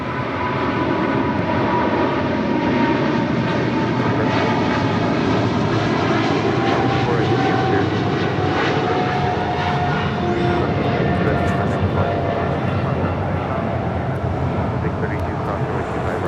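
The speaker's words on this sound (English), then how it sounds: "This is Cargo King Flight 222 taking off to Shanghai on a 777 freighter" A Boeing 777 freighter roars on takeoff from a runway, a loud, sustained engine rumble and whine that holds steady throughout, with a voice talking over it.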